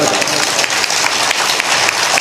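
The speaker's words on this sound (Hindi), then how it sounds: "जोरदार ताली बजाओ" Crowd applause at a spiritual guru's talk, dense and sustained clapping from a large audience filling the whole stretch at steady loudness, with no talk over it.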